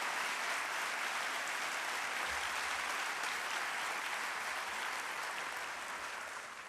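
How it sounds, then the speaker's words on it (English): Steady, dense applause from a large audience at a university convocation rolls on without a break and tapers slightly at the end. "Please stand and let's give them a round of applause."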